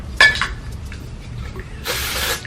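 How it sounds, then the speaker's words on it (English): Texture spray or dry shampoo from an aerosol can hisses through hair, one short burst near the start and a longer, louder spray toward the end, close to the microphone with no talking. "you're going to take some texture spray or some dry shampoo"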